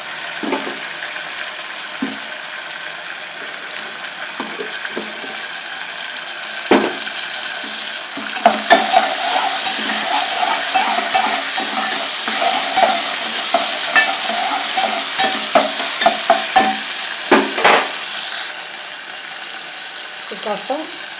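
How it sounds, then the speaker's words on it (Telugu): Ginger garlic paste fries in a pan with a loud, continuous sizzle while a spoon stirs it, clinking and scraping against the metal now and then. The hiss swells after a few seconds and eases off near the end. "అల్లం వెల్లుల్లి పేస్ట్ వేస్తున్నానండి"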